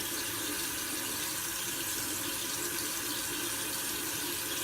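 Tap water runs in a steady, even hiss into a bathroom sink during a face-washing skincare routine, continuous and fairly close with no talking.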